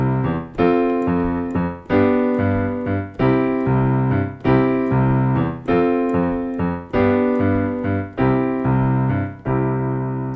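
Piano plays a calypso jazz pattern, a bouncing bass figure with chords, in a steady, lively rhythm of loud repeated chord stabs over moving low notes, close and without any voice.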